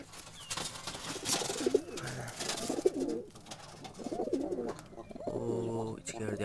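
Pigeons cooing close by in a loft, with repeated soft throaty coos in bursts, mixed with someone talking.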